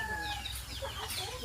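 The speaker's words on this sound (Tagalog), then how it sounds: "Daming manok, oh." Native chickens cluck and squawk close by, overlapping calls in a busy, continuous farmyard chorus with a low background hum.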